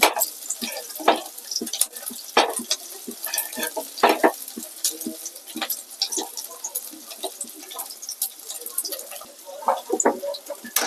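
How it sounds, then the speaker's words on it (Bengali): Onions fry in hot oil in a wok, giving a quiet, steady sizzle broken by sharp crackles and the scrape of stirring throughout. "কড়াইটা গরম হয়ে গেছে মধ্যে পেঁয়াজ দিয়ে দিলাম"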